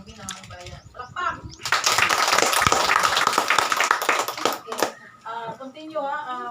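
A room of attendees at a Filipino federalism seminar breaks into clapping for about three seconds, loud and close, with a voice talking before and after.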